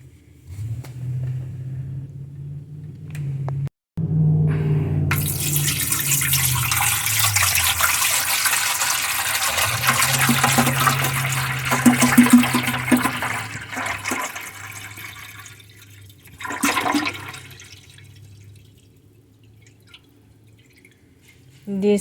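Filtered water pours from a gallon jug into the tank of an ultrasonic humidifier, a splashing, gurgling stream lasting several seconds with pauses and drips, and a person speaks at points.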